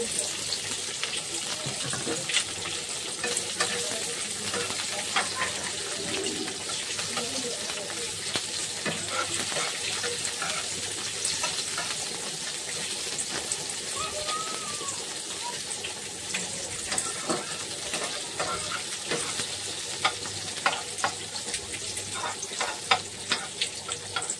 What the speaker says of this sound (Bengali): তেল গরম হয়ে গেছে, এখন পেঁয়াজ, রসুন, আদা, কাঁচামরিচ দিয়ে দিচ্ছি